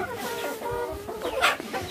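Chickens in a farmyard give a close, fairly loud run of clucks and throaty warbling calls over about two seconds, with a sharper squawk near the end and no voices.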